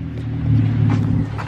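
A car with a Subaru-like engine note drives up nearby, a steady low rumble that swells slightly midway and holds for a second and a half.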